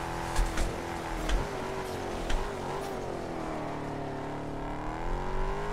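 A car engine drones steadily in the Test Drive Unlimited racing game, its pitch rising and falling gently as the car drives on, with a few faint ticks over the continuous hum.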